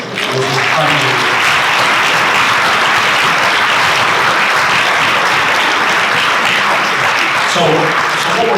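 Luncheon audience applauding a donor, loud continuous clapping that fills the room throughout, with a speaker's voice briefly audible over it at the start and end.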